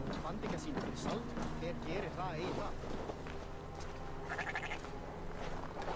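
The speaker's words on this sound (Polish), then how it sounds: "Wiele owiec i mamy tutaj dwie aż" Sheep bleating in Assassin's Creed Valhalla, several wavering bleats close by in a rural setting, with footsteps and someone talking over them.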